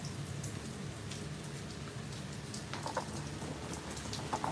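Steady rain falls and patters on surfaces as an even, continuous hiss. It is soft and constant, with scattered drip-like ticks throughout and no voices.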